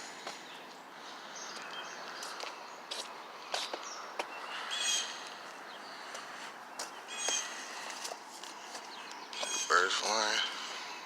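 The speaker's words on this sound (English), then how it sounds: "Birds flying." Birds chirp and tweet beside the Grand River on a morning of high water, in short scattered calls over a quiet background, with a person's voice at moments.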